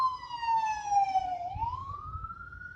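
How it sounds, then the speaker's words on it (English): An ambulance siren wails past in the background, a clear descending then rising tone that sweeps downward before climbing again as the vehicle passes, moderately loud with no speech. "it's really ambulance riding by, a loud noise in the background"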